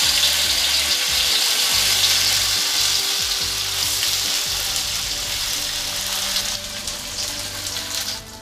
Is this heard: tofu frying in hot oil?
yes